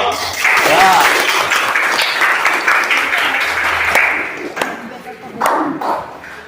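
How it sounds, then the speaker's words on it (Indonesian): Audience applause in a classroom during a roleplay teaching session, a burst of clapping that tapers off, with a few sharp claps and a voice speaking over it. "Tepuk tangan buat kita semua dong."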